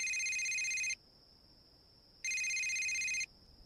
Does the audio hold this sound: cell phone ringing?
yes